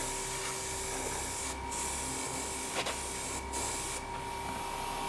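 An airbrush sprays paint onto a haunted dollhouse in a steady, close hiss that runs unbroken, with a few faint gaps and a small click partway through.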